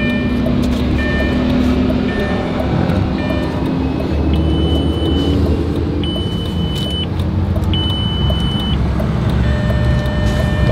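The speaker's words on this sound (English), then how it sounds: "it's literally gonna get dragged limp body onto this flatbed here in a second" Vehicle idling near a flatbed tow truck loading a wrecked Lamborghini, with a low steady rumble and a series of short, evenly spaced high beeps repeating through the middle stretch, no talk.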